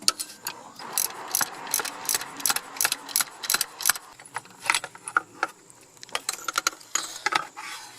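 A 15mm socket on a breaker bar works the center bolt of an idler pulley on a GMT-800 Chevy Tahoe, giving a run of sharp, close ratcheting clicks and metallic clinks in quick irregular bursts.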